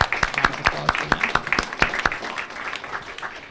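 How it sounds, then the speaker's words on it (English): Audience applause at a library talk, a scattering of distinct claps building into moderate, steady clapping that gradually thins out, heard from within the room. "if everybody could please join me in a warm round of applause for them"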